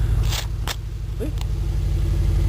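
A Cummins diesel truck engine idles close by on a cold day, a steady low rumble with a regular pulsing throb, broken by a few brief clicks and rustles of handling.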